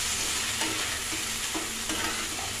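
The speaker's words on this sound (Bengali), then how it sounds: "এবার সব দিয়ে নাড়া হবে।" Soy, chili and tomato sauces being stirred in a hot pan, a steady close sizzle with a few soft scraping strokes of the spoon, no voices.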